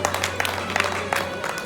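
An audience at a Bhagwat Katha applauds, steady group clapping at moderate loudness with a constant low hum beneath.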